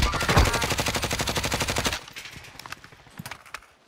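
Automatic weapon fire in Call of Duty Warzone: a loud, rapid rhythmic burst lasting about two seconds, followed by scattered single shots and lighter clicks and footsteps.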